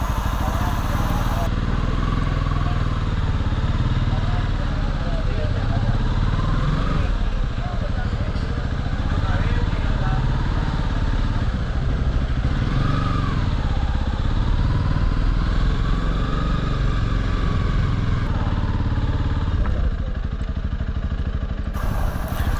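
A motorcycle rides slowly through a town pedestrian precinct and narrow one-way streets in Europe, its engine a steady close rumble with shifting revs throughout, and someone talks over it.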